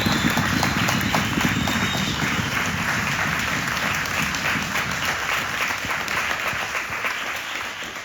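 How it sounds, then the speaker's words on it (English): Sustained audience applause at the close of a seminar, honoring its organizer: dense, steady clapping from a room full of people, fairly loud and continuous for several seconds, tapering slightly toward the end. "we should give Elo a big round of applause"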